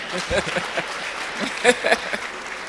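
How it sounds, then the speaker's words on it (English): Applause for a teacher receiving a certificate at the Seplat award ceremony, scattered hand claps from an audience over a couple of seconds with a brief burst, loosely spaced and moderately close. "Please clap for Beauty."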